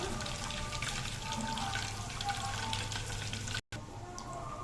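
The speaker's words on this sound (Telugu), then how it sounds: "మన నెయ్యి మంచి వాసన వచ్చే వరకు మరిగించాలండి." Ghee simmers in a pan with a steady, bubbling sizzle, close and continuous, cut by a brief moment of silence.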